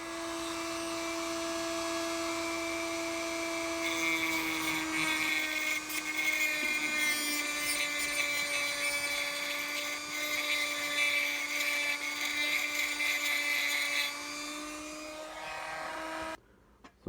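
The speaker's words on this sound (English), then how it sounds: "now I'm gonna take the Dremel and make the cut just to look a little bit smoother" Dremel rotary tool smoothing the hacksaw-cut edges of an N scale Atlas RS11 model locomotive part: a continuous high-pitched whine that shifts slightly in pitch as it bites into the workpiece, then stops abruptly at the end.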